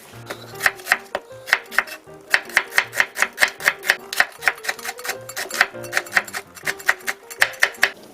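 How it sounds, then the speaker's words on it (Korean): A knife chops green chili peppers diagonally on a cutting board in quick, steady rhythmic strikes, dozens of crisp close taps with short pauses between runs. "풋고추는 어슷 썰고 3cm 길이로 잘라서 제가 고명 준비하겠습니다"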